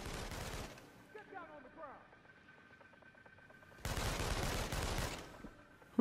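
Gunfire in inFAMOUS Second Son erupts in dense loud bursts at the start and again later, separated by a quieter stretch with scattered shots and rattling; no words spoken.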